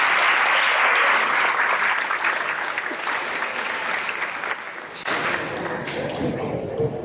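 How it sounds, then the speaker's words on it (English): An audience at an eighth grade awards program applauds in a dense, sustained wash of clapping, loud and close at first and easing slightly, with voices mingling underneath. "round of applause for the work ethic and stuff"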